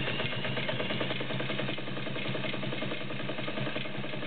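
A vintage Dressmaker model 90 sewing machine runs a zigzag stitch, giving a steady, fairly quiet mechanical whir with a fast rhythmic chatter and no voices.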